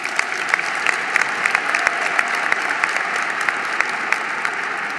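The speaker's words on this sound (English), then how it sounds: "You can clap." Moderate applause from a large commencement audience at Syracuse University, a steady wash of clapping with scattered sharper claps, fairly distant and even throughout.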